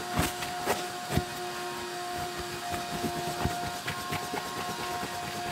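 Vacuum cleaner sucking dirt from the carpet of an old abandoned Rolls-Royce under restoration, a steady close whirring drone with a constant hum and irregular scraping knocks as the nozzle moves.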